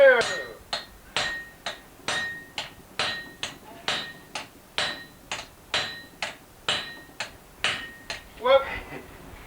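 A blacksmith at Bungendore hand-hammers hot metal in about eighteen sharp, evenly spaced ringing blows, close and clear, ending with a brief faint voice.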